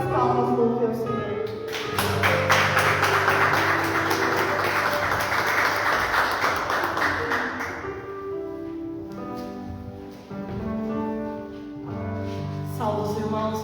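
A church congregation claps in praise during a worship service, with the clapping audible for a few seconds over sustained organ or keyboard chords that carry on after the clapping fades.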